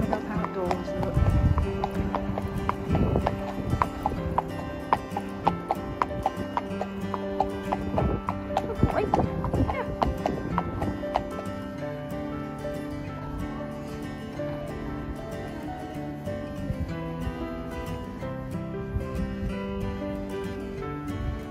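A pony walks outdoors at a festival, warming up before an arena walk, its hooves clip-clopping steadily at close range amid outdoor noise and background music, with occasional voices.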